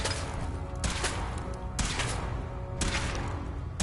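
Weapon fire in the Fallout 4 video game comes as a few sharp, scattered shots over a rumbling background, fairly quiet and without speech.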